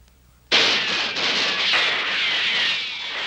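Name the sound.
cartoon gunshot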